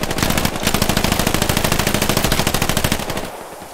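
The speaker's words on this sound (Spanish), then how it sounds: "hay una MG" Sustained machine gun fire in the World War II shooter Hell Let Loose, a rapid, loud, evenly spaced burst of shots lasting several seconds before cutting off abruptly.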